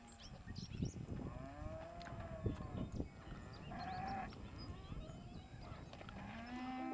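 Cattle out on summer pasture lowing, several drawn-out moos from a few animals at moderate distance, overlapping one another against quiet outdoor background with no talking.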